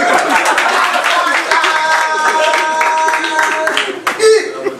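A crowd at an inauguration event applauds a performer, the clapping running under music and voices for several seconds.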